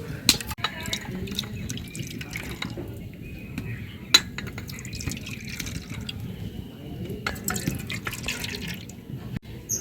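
Milk mixture for a homemade yogurt starter being divided and poured into four bowls, with soft drips, trickles and light clinks of dishware going on steadily at close range, and no talking.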